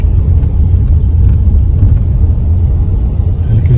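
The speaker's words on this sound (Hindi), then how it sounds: "हल्की ट्रैफिक भी है" Steady low rumble of light road traffic in Srinagar, with cars rolling past and a continuous engine drone, heard from inside a moving vehicle and loud throughout.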